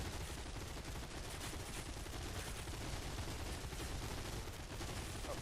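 Hip-fired guns in the video game Cepheus Protocol let off rapid, continuous gunfire throughout, dense and fairly quiet, with no voices.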